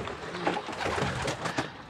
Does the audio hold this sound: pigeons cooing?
yes